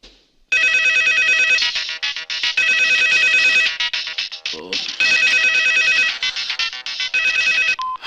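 A phone ringtone in an action movie scene plays loud, repeated electronic melodic bursts with brief gaps between them after a number is dialed, close and clear with no talk over it.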